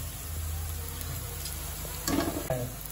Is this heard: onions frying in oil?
yes